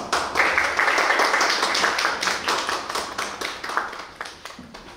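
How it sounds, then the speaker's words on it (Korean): Audience clapping welcomes a seminar speaker on transhumanist and posthuman spirituality, a theology professor, with moderate applause filling the room and tapering toward the end. "박수로 한번 모시도록 하겠습니다."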